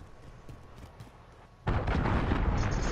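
Cruise missile explosion in a competitive shooter video game: after quiet background thuds, a sudden loud blast erupts and settles into a sustained rumbling roar.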